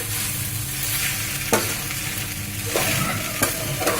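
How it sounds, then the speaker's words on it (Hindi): Sabudana khichdi fries in a pan while being stirred, producing a loud, steady sizzle. Occasional scraping strokes of the spoon cut through, heard up close with no voices. "इसे अच्छी तरह से हिलाते रहें।"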